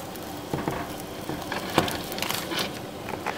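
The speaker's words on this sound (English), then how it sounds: "Now we're going to add the potatoes." Potatoes tumble into a pot of simmering chicken noodle soup, giving a soft splash and a few light clatters over a steady low sizzle and bubbling, heard up close with no talking.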